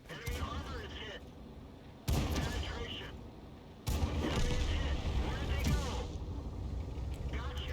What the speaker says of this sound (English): The 2-pounder gun on the Matilda is awesome to watch.